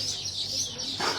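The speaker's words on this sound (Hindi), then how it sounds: "अरे ब्रदर बहुत ज्यादा चहचहाने की आवाज आ रही" Birds chirp at a prayer mountain: dense, bright twittering sits close and fairly loud over a low background hum, with no clear talk.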